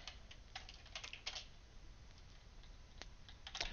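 Quiet, close clicking of keys on a computer keyboard, typed in uneven bursts with brief gaps, faint against a low steady background hum, with no talking.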